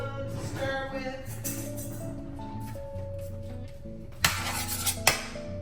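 A metal spoon stirs a cooking pot holding olive oil, with soft scraping and a couple of sharp, bright clinks near the end, close and moderately quiet.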